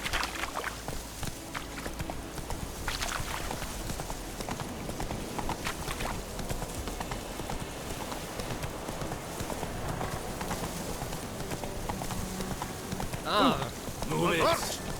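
Roach, the horse in The Witcher 3, trots along with a steady clip-clop of hooves, moderately close, over a soft rain-like background hiss, with a brief voice near the end.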